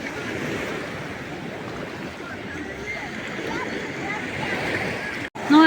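Sea waves at Dolphin beach in Odesa make a steady, full wash of surf with wind noise across the whole stretch, briefly dropping out and then bumping up loudly at the very end.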